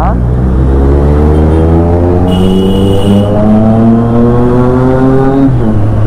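A BMW motorcycle engine hums in a steady, loud drone. The pitch climbs slowly and evenly as it revs up through the gears, close by, with a voice talking over it.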